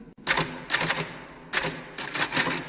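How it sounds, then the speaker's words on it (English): Rapid typewriter keystrokes in several bursts separated by short pauses, close and fairly loud, with no voices. "Whenever I'm in here, you hear me typing."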